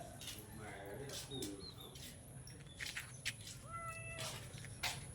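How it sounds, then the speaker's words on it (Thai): A cat meows several times, short rising calls spread across a few seconds over a steady background hum, fairly close but not loud, with some faint rustling between calls. "โอ้แมวเขากลิ้ง"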